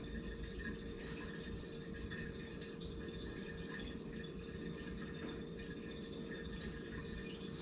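A hose runs water into a brewing bucket with a faint, steady rushing and trickling flow that continues evenly throughout, and no voices.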